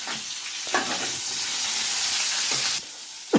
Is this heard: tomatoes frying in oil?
yes